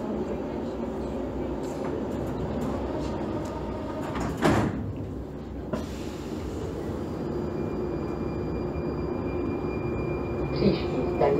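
Prague metro line A train on the Depo Hostivař to Nemocnice Motol route, with a sharp door-closing thud and hiss midway, then a steady rolling rumble as the train pulls away, heard close from inside the carriage.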